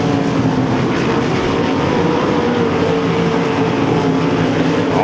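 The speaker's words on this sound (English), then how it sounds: "5 laps to go in the feature event for the sprint cars tonight here at Devil's Bowl Speedway." Sprint cars race in the feature event at Devil's Bowl Speedway, engines roaring in a continuous loud drone with shifting pitch as cars pass, no voices on top.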